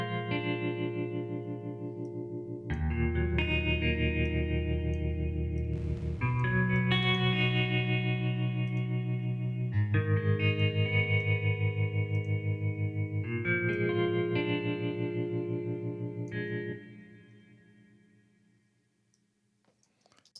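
Guitars drenched in exaggerated reverb and delay plugin effects ring out as sustained, layered chords with echoing repeats, steady and moderately loud before tailing off into a long fading wash near the end.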